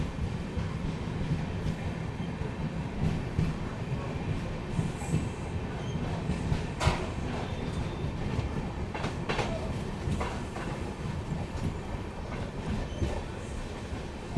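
The 17645 Secunderabad Repalle Express runs along the rails with a steady, close, low rumble, broken by intermittent wheel clicks and clanks over the joints, and no voices.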